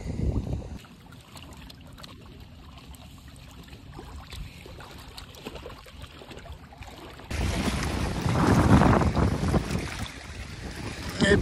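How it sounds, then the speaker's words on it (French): A strong south wind gusts against the bank of a pond during carp fishing, roaring and buffeting the microphone close up and growing louder toward the end. "on a bien le vent du sud qui nous tape dessus"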